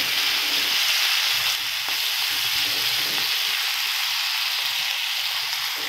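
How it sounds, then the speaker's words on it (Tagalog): Pork adobo reheats in a hot pan with a steady, continuous sizzle and fry crackle. It sounds close and even throughout, with no voices. "So, sa ngayon, iinitin lang po natin ang ating pork adobo."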